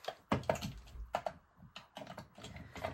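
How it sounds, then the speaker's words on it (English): A colouring pencil sharpened in a temperamental pencil sharpener, producing a series of close, uneven grinding and clicking bursts with brief pauses between them. "I'm going to have to sharpen this one because it's not sharp."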